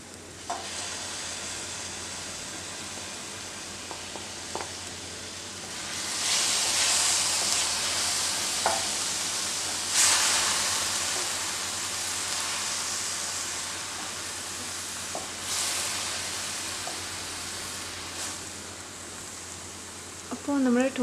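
Tomatoes hit a pan of light-brown frying onions with a steady loud sizzle that swells after a few seconds and hisses on, broken by occasional spoon clinks and stirring.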